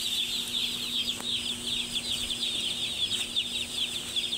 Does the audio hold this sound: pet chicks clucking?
yes